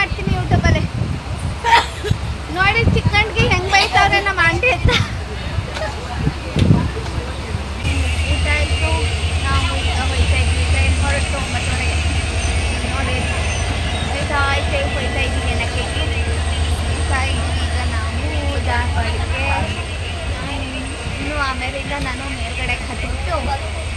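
A passenger train runs, heard from inside the carriage: a steady low rumble and rattle that holds throughout, with people talking and some clatter early on.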